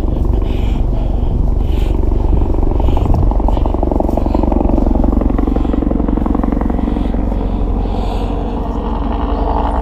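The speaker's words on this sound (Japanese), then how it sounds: "あのヘリコプターはですね、防災ヘリなんですけど" A disaster-prevention rescue helicopter flies over a mountain marsh, its steady rotor drone loud and continuous for the whole stretch, with faint voices beneath it.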